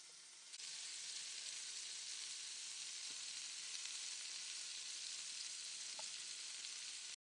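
Soybean curry with a pinch of sugar stir-frying in a pan: an even, continuous sizzle holding steady for several seconds, fairly soft, with a faint click or two and no voices.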